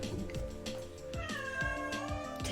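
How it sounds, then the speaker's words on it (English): A cat meows repeatedly and insistently nearby, drawn-out whiny calls one after another with no talking. "if you hear that, that's my cat really wanting to go out"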